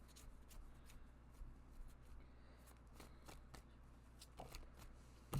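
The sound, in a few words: shuffling a deck of tarot cards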